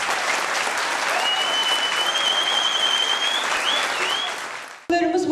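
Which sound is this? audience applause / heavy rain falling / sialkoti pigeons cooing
audience applause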